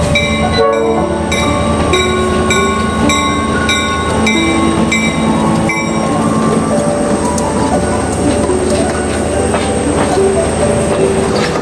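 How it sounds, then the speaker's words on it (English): A tourist train rolls out of a canyon in Cumberland, its horn sounding in sustained blasts over steady rumbling wheels and car noise, loud and close throughout. "You got this tourist train here in Cumberland coming out of the canyon."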